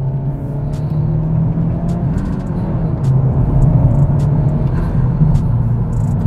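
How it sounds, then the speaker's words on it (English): A Honda Civic Type R engine fitted with an AFE Takeda cold air intake drones steadily at close range, a continuous loud rumble with faint ticking and clicks over it. "That is actually the intake that I have on the car right now, which is an AFE Takeda cold air intake."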